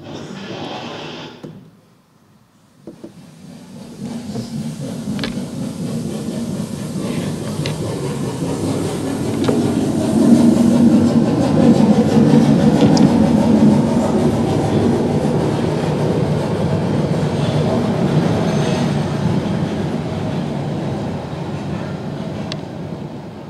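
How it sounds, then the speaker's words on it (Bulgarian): Train pulling away from Terevo station in Bulgaria, a rising rumble of rail wagons that swells after a short pause and holds steady, with rolling wheel noise and faint clatter, fairly close and loud. "той влака потегли"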